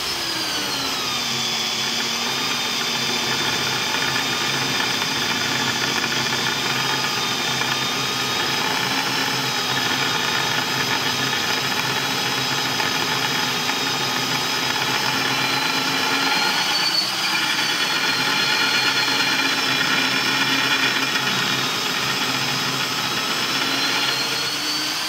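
A power drill bores mounting holes into the steel base of a large homemade vise, giving a continuous loud whining drone with steady harmonic tones, alone with no talk.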